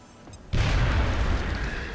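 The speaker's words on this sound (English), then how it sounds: "HE grenade, el numero dos." An HE grenade detonates in a video game, a sudden loud boom half a second in that rolls on as a broad, sustained roar for the rest of the moment.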